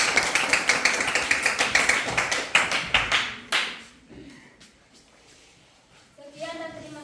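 A classroom group applauds, with brisk, even hand claps for about three seconds that taper off into quiet, followed by a faint voice near the end.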